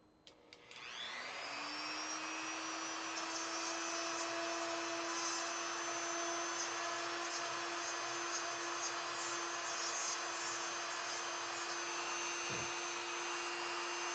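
A small drill with a small bit whines steadily at high pitch, spinning up at the start and running continuously, close and fairly quiet, during an NESRGB mod install.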